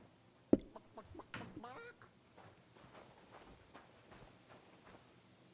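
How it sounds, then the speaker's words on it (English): A chicken clucking in the video game Kingdom Come: Deliverance II, with a sharp knock, then several faint, scattered clucks and cackles spread over quiet village background sounds and footsteps. "did that chicken sound like a human making chicken noises?"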